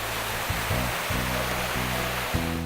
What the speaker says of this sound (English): the cascading lakes and waterfalls of Plitvice